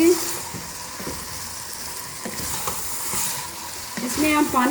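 Ridge gourd curry being stirred in a hot pan, with spoon scrapes and clatter over a soft sizzle, close and fairly loud, a brief voice near the end.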